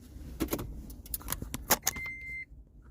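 Keys jangle and rustle near a Toyota Prius hybrid as it is started up, followed by a short electronic beep tone; no voices.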